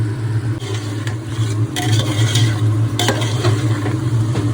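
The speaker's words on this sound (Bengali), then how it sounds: "পেঁয়াজটা হালকা ভেজে নেব" Onions frying lightly in a pan with chilli powder and turmeric, a steady close sizzle with stirring scrapes over a constant low hum, continuous throughout.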